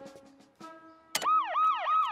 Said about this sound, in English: Those lights and this siren tell folks to pull over so we can get past them.